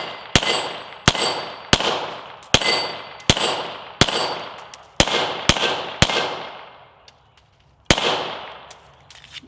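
A Hudson H9 pistol fires about ten sharp, loud shots in an uneven rhythm, each crack followed by a short ringing decay, with a pause before the last shot.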